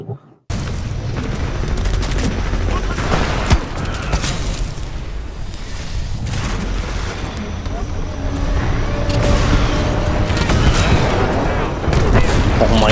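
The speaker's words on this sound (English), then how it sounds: "these guys keep shooting at me, and every time you guys kill them" Dense gunfire and booming explosions from a Titanfall 2 match pound continuously in a loud, chaotic mix, with rapid shots and heavy blasts layered over one another.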